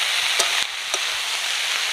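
Saag greens frying in a pan with eggplant and potato, giving a steady broadband sizzle throughout, with a couple of brief scraping stirs of the spoon.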